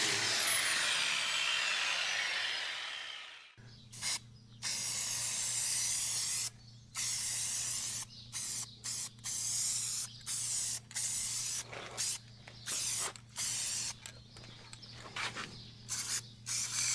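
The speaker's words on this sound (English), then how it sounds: "I'm just gonna grind it a little bit flatter and spray paint it real quick" Spray paint from an aerosol can hisses in repeated bursts over welded metal on a grain gravity wagon, steady close sprays broken by short pauses, with a steady low hum running throughout.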